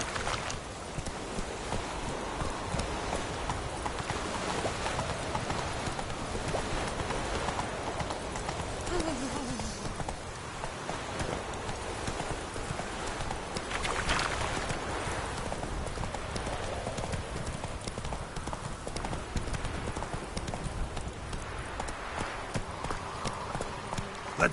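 Roach, the horse in The Witcher 3: Wild Hunt, gallops steadily with continuous rapid clip-clop hoofbeats throughout, under a busy game soundscape with a voice speaking over it.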